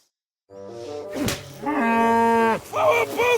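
Cow mooing in the video game Kingdom Come: Deliverance II, a long, loud, close bellow rising in pitch then holding steady before breaking off, followed by shorter low grunting moos.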